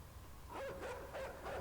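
Dogs barking in the video game Inside, a few short barks in a quick rhythm, muffled and moderately distant over a low ambient rumble.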